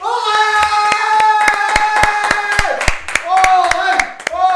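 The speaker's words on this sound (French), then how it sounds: "Faites un tonnerre d'applaudissements pour Aurel Perrault de Cornuol" Audience applause for a fighter at a live MMA league event, sharp individual claps ringing out close and loud while voices and crowd noise carry on underneath.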